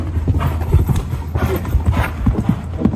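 Horse hooves clip-clopping at a bullfighting setting, a steady run of close, loud hoof strikes on the ground with no talk.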